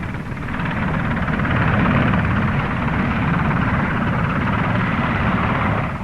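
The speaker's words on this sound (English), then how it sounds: "A helicopter on the ground is a sitting duck, so keep the engines running and get off as quickly as you can." An RAF Belvedere helicopter sits on the ground with its engines running, giving a loud, steady roar and rotor thrum that holds at an even level throughout, with no voices.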